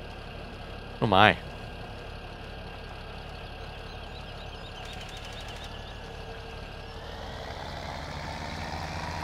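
Tractor engine in Farming Simulator 17 idling with a steady mid-pitched hum that shifts and rises near the end, under a brief sharp sound and a short spoken exclamation.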